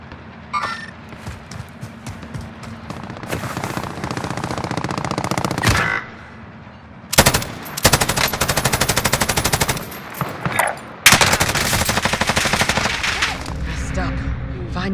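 Video game firefight with rapid machine-gun bursts, several long rattling strings separated by brief pauses, loud and close, while radio-style voice callouts play between and over the shooting.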